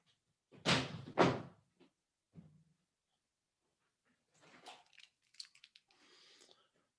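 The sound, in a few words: door being shut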